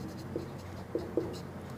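Chalk or marker writing numbers on a board during a maths lesson, a faint scratchy stroke with a few small squeaky taps close by.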